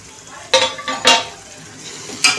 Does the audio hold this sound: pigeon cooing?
no